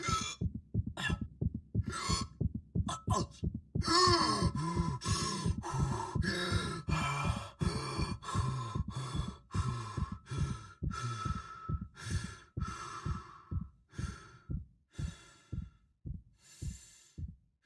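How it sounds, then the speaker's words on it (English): Isaac, the Dead Space protagonist, catches his breath after oxygen deprivation, with rapid heavy gasping breaths that gradually slow into a steadier, quieter breathing rhythm alongside a pulsing heartbeat-like throb, with no speech. "you can expect to hear Isaac catch his breath as he recovers from a lack of oxygen"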